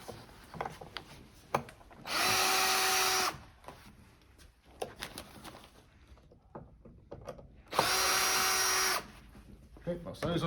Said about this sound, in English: This can be done with just a normal screwdriver. I'm just doing the electric one just for speed.